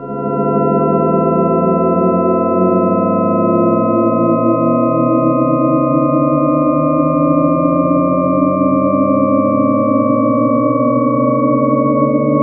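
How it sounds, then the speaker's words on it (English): Shepard tones synthesized in SuperCollider, layered sine glides with some pitches ascending and others descending at once, a continuous steady drone of endlessly sliding tones with no pauses. "last one is similar to the previous, except some are ascending and some are descending."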